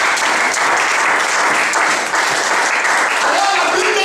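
A church congregation bursts into loud, dense applause and cheering, steady close clapping filling the whole moment with voices mixed in.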